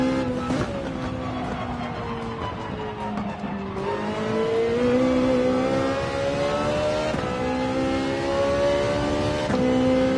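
Ferrari 458 Italia V8 racing in Gran Turismo 7, its engine revving hard and loud through rising and falling gear pulls, with brief shifts and faint tire squeal, close and continuous.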